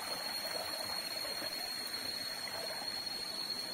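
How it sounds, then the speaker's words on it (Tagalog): A small waterfall and cold mountain stream on the Mt. Makiling trail flow with a steady, broad hiss of rushing water at moderate loudness, with nothing else heard over it. "Meron pang waterfalls doon na maliit."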